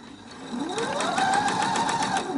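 A sewing machine stitches over the elastic of a homemade decorative fabric face mask, its rapid needle rhythm running steadily and close throughout with no talking.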